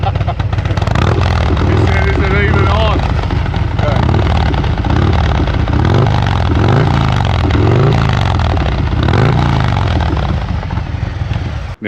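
A Harley-Davidson motorcycle fitted with a performance exhaust idles with a steady rumble and is revved repeatedly in a series of rising and falling throttle pulses, loud and close throughout.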